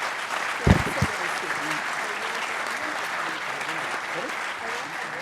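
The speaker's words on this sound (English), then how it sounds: "really giving them a strong round of applause for tackling this tough issue" An audience applauds panelists after a discussion on Africa's future, a steady wash of clapping that opens with a few loud claps near the start.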